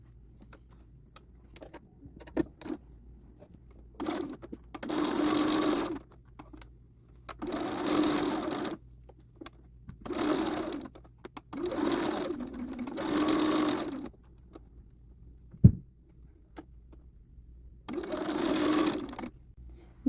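A sewing machine stitching the seams of a pair of pants runs in several separate bursts of steady whirring, close by, with a sharp clunk between runs and quiet pauses.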